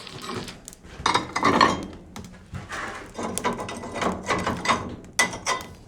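Heavy cast iron lids clank and scrape as they are set back onto a wood-fired cast iron range, a series of loud metallic knocks and grinding slides in an irregular rhythm.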